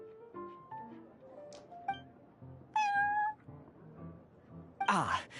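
Prince, a cat at the Cat's Tail in the video game Genshin Impact, gives several short, clear meows one after another, close and bright, with a louder burst of game sound near the end.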